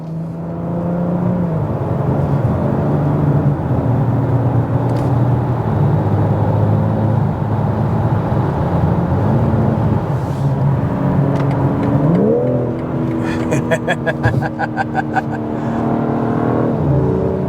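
A 2024 BMW M4 Competition xDrive coupe's exhaust drones close by while the engine revs up and down in rising sweeps, with sharp crackles and pops near the end.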